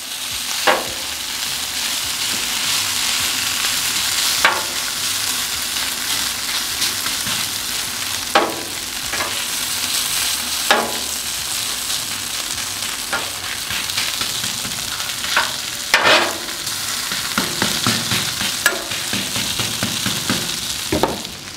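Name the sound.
hash browns frying on a Camp Chef griddle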